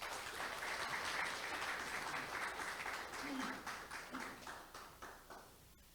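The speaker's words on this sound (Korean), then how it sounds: "박수로 환영 부탁드리겠습니다." An audience at a 2023 HRD forum claps to welcome a presenter to the stage: a thick, sustained round of applause that thins toward the end into a few scattered, separate claps.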